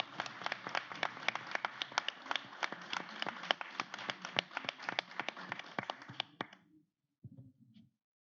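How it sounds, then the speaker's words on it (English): A convention panel audience claps in a dense burst of applause that fades out, followed by a few scattered final claps. "Please round of applause for Cornelia."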